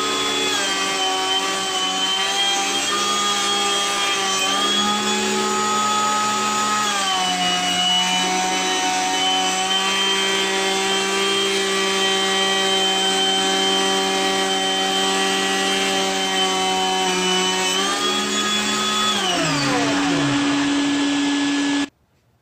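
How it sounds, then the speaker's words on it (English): A jointer planer drones loudly and steadily as Purpleheart wood blocks are fed through, its pitch sagging under load before the machine cuts off near the end; no one speaks. "put them through a joiner planer just to make sure that they end up flat and square"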